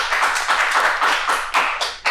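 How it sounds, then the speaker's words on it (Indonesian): A few people clap on a podcast, a close, loose run of sharp hand claps in an uneven rhythm with no voices over them. "Tepuk tangan dong."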